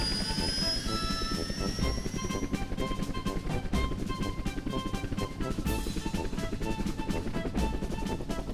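A cartoon helicopter hums and whirs steadily throughout, with a rapid rotor-like pulsing that continues without pause, mixed with background music and effects.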